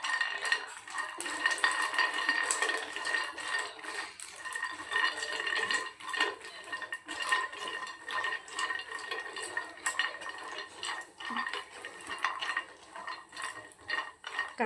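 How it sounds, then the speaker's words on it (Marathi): Cashews roasting in a little ghee in a pan over low heat, with steady clinking and scraping of a utensil against the metal under a soft background hiss, continuous and fairly close. "तर आता काजू भाजून घेऊया."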